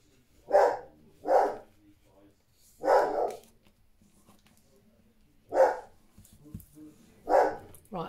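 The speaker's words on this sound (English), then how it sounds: "I'm sorry about my dog." A pet dog barks indoors in five separate loud bursts spread over several seconds, close by, with quieter gaps and faint background noise between the barks.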